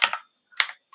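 A few brief keystroke bursts on a computer keyboard, typing location search terms for a Phoenix locksmith ad group, close and crisp with short gaps of silence between.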